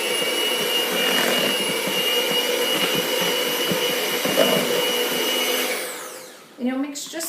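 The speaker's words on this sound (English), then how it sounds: "Then take the mixer," Electric hand mixer running at medium speed through taco dip, a steady close whirring motor hum that holds for about six seconds, then winds down and stops.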